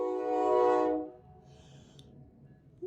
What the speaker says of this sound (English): as I wait for the train to go by.